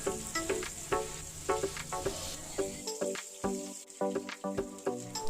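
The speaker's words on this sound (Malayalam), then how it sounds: "ഇനി നമുക്ക് മസാല നിറച്ച കയ്പ്പയ്ക്ക എണ്ണയിലേക്ക് വെച്ച് കൊടുക്കാം" Masala-stuffed bitter gourd frying in hot oil, giving a steady, close sizzle broken by repeated crackling pops and spatters, with no talking.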